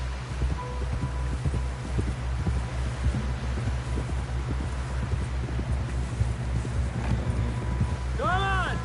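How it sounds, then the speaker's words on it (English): Horse hooves in Red Dead Redemption 2: a steady run of soft clopping footfalls over a low droning background, fairly close, with a brief ringing tone near the end and no talking. "Someone help John down off this horse."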